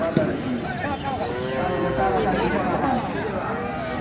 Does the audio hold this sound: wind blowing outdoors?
no